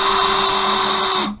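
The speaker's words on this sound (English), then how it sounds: "now we're going to pre-drill all of these bottom holes and screw them in" A power drill pre-drilling holes in a garage shelving build runs as one loud, steady high whine for over a second, then winds down as the trigger is released, close up and without talking.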